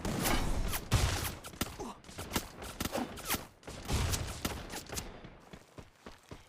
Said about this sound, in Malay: Lihat tembakan dilakukan.